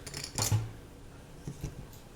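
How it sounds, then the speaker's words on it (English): A computer mouse gives a few sharp, close clicks, one near the start and a quick pair later, against quiet room tone. "You hear me clicking. I have a mouse."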